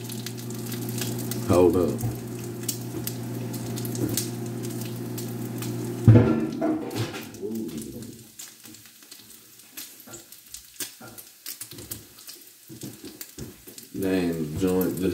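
Eggs fry and pop in a pan. A steady close sizzle carries on under a voice, then a sudden loud burst as they explode. After that comes quieter crackling and stirring, and the sizzle returns near the end.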